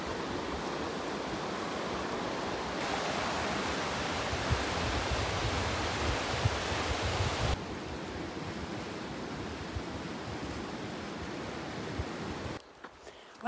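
River water rushing at a trail crossing on the Pacific Crest Trail, a loud steady roar that stays dense throughout, dropping slightly in level partway through before cutting off at the end.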